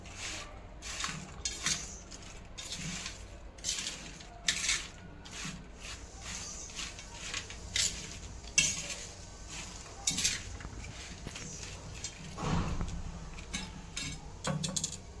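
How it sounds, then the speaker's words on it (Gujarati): A spoon scrapes and clinks in a bowl while dabela chana chaat is stirred, with soft, irregular metallic taps and rubbing, steady and moderately close. "હવે આને આપણે સરસ મજાનું હલાવી નાખશું"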